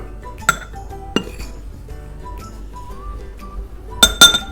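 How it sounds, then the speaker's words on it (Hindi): Ice cubes drop into glasses for lemon masala shikanjbeen, giving several bright clinks and rattles: a couple of separate knocks early, then a quick cluster of sharp glassy clinks near the end, close and clear with no talk. "तीसरे वाले में सिर्फ आइस जाएगी"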